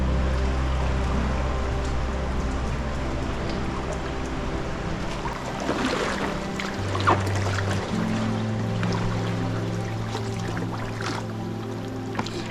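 A strong river current rushes past a packraft on a New Zealand river, a constant close wash of flowing water with faint creaks and knocks from the raft, and no voices.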